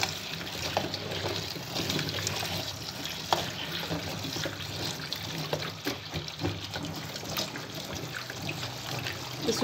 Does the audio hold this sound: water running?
yes